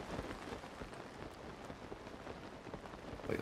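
Steady rain falling in the video game Zelda: Tears of the Kingdom, an even, soft patter of drops on surfaces throughout, quiet and alone without talk.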